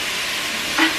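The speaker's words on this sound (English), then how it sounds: "You can hear that sizzle now, hopefully." Beef mince sizzles in a frying pan as chilli con carne is cooked, a steady broadband hiss from close by with a slightly louder flare near the end, and no talking.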